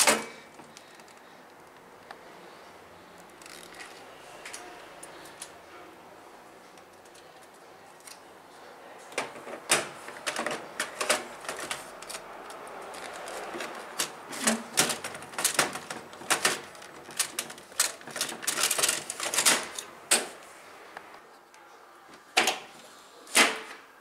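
Unboxing an HP LaserJet Pro M26nw printer, with plastic wrapping pulled off and the toner cartridge inserted: many close crinkles, rustles and sharp clicks at an irregular pace, growing busier midway, with no voices.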